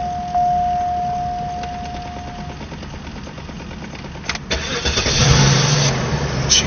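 Cadillac DeVille engine cranking and firing to life after a fuel pump replacement, a steady whine first, then the catch and a louder settling idle near the mic; no talk.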